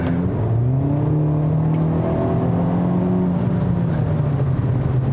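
A Hyundai Elantra N turbo sport compact sedan revs up and down, its exhaust note rising and falling as a steady, close engine drone with a slightly burbly edge, with no voices over it.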